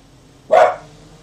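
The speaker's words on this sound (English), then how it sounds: "that's my puppy dog, Elsa." One loud, sharp bark from a puppy dog indoors, sudden and short with a quick fade, alone against quiet room tone.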